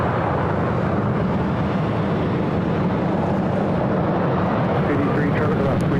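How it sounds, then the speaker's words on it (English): A Southwest Airlines Boeing 737-800 arriving at LAX from Reno, a steady loud broadband jet roar that stays constant throughout, with a voice talking over it. "Next arrival is Southwest Airlines flight 1247 coming in from Reno on a 737-800."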